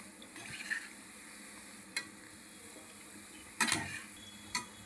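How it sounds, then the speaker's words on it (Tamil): Wheat gulab jamun frying in oil over a low-medium flame while being stirred: a faint steady sizzle with a few sharp clinks and scrapes of the spoon against the pan. "லோ மீடியம் ஃப்ளேமில் வச்சுட்டு அப்படியே கிளறி விட்டுட்டுருக்கலாங்க."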